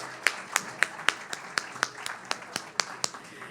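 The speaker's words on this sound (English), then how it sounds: "I think you need to give yourselves a round of applause" Crisp, evenly spaced claps ring out at the 2023 QWF Awards Gala, roughly a dozen sharp hits in a steady rhythm, close and fairly distinct rather than a full crowd roar.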